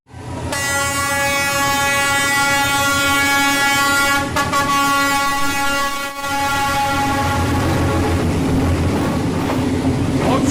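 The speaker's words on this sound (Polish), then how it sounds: "więc pociąg przejechał" A train rolls past a riverside slum district in Vietnam, a loud continuous rumble with a sustained multi-tone horn blaring over the wheels for nearly the whole passage, briefly dipping once before resuming close and steady.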